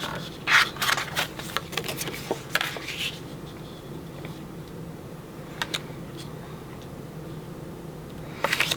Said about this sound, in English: I'm trimming 2 of the photos